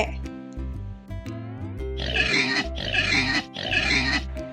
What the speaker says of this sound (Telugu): పిగ్